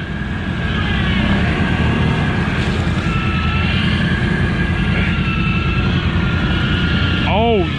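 A Can-Am off-road vehicle's engine roars steadily close to the microphone as the throttle is held open, with wind buffeting and people talking and exclaiming over it throughout.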